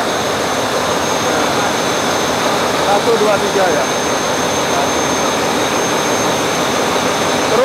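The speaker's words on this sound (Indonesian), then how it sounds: "Ini mesin bantunya." Large ship's auxiliary engine running in an engine room aboard a vessel on a Semarang–Pontianak voyage, a loud, steady, dense mechanical roar with a constant hum filling the whole stretch, while someone talks over it.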